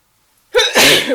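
A single loud sneeze bursts out after a brief silence, with a sharp intake followed by a forceful, breathy explosion up close.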